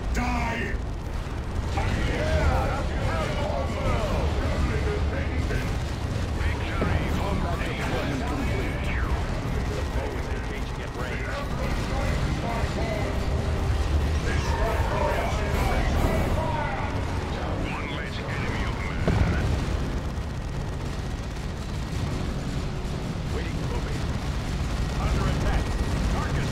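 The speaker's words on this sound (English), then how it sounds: "Firing the bombardment cannons!" In the Dawn of War II: Retribution campaign, bombardment cannons fire in a dense, continuous barrage of booms and explosions mixed with battle noise, loud throughout, while voices shout over the din.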